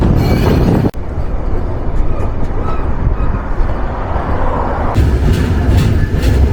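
The Nilsagar Express rolls along the rails on a rainy run, a loud, continuous close rumble of wheels and carriages with a brief dip near the start and no talk.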